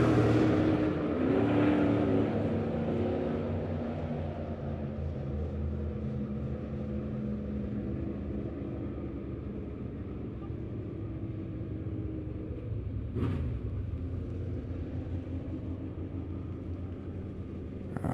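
Dirt track B-mod race cars in a POWRi heat race at Lebanon Midway Speedway, a distant rumbling roar of engines that swells early then settles into a steady, fading drone with a brief sharp burst near the end.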